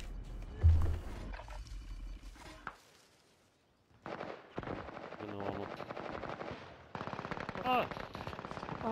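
Video game gunfire in a multiplayer shooter, heard as fast, sharp bursts of automatic fire and single shots at moderate loudness, mixed with other game sounds. Players' voices come in and out over the action.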